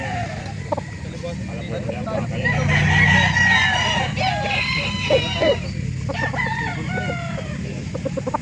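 Chickens clucking and a rooster crowing in a busy outdoor chicken market, with people talking nearby and some background traffic.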